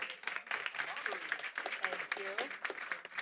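Audience applause closing a panel discussion at a university plenary event, a steady broadband patter of clapping lasting throughout, with voices mingling in the crowd noise.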